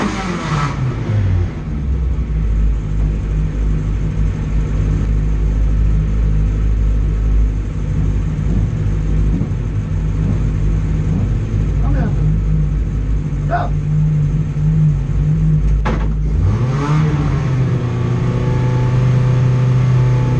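A yellow BMW E36 race car lapping a circuit in Piteå, a steady loud engine drone that holds for most of the clip, then dips and pitches back up as it shifts or revs.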